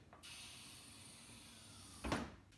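A low mechanical hum runs steadily, then a brief hiss and soft clunk as a DeLorean's door swings open on new gas struts.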